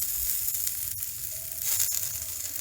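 Eggplant (baingan) slices fry with masala in a pan using little oil, giving a constant close sizzle broken by a couple of sharp stirring taps.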